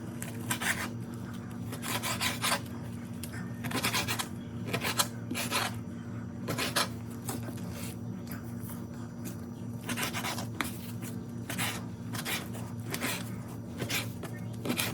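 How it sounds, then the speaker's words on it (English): A knife chops chicken into small pieces on a cutting board in a home kitchen, producing a steady run of close, fairly loud scraping and tapping strokes over a low background hum. "I'm gonna cut it into like little pieces."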